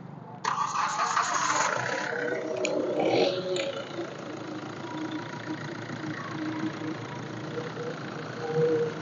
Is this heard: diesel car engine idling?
yes